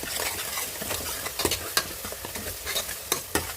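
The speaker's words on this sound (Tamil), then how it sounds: "வெங்காயம் கருவேப்பிலையை போட்டு வதக்கலாம்." Onions and curry leaves sizzle steadily in a hot pan while a utensil stirs and scrapes, with a few sharper clicks of contact against the pan.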